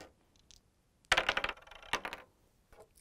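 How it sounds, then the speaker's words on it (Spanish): Coins drop onto a hard surface, a faint tap first, then a loud clattering burst of clinks and rattles that settles and trails off into a few soft taps. "las monedas"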